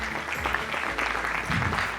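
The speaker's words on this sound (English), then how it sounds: "A round of applause to them." Audience at an IEEE event claps for visiting members from the Uganda and Kenya sections, a brief burst of steady applause in a hall.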